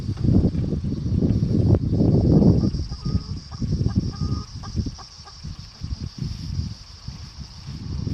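Chickens being wrangled and moved toward a coop cluck and squawk in a dense, continuous jumble, loud and close, with busy handling noise throughout.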